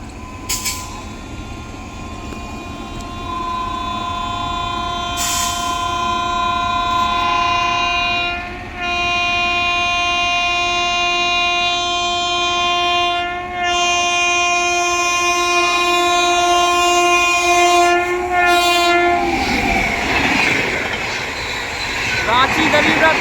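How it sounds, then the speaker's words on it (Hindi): The Ranchi Garib Rath Express train passes close by with a long, loud, sustained horn over heavy rumbling and clattering wheels, the noise ending in a rush as the cars go by; a voice speaks faintly underneath. "चलिए आ गई है रांची गरीब रथ एक्सप्रेस अपनी अमृत भारत एक्सप्रेस को ओवरटेक करने।"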